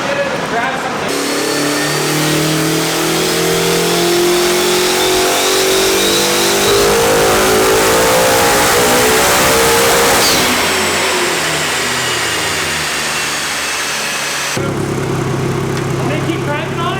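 A quad-turbo Honda Civic engine on a dyno revs hard and loud, climbing through a long sustained pull before the pitch sweeps back down and settles to idle, with voices in the background.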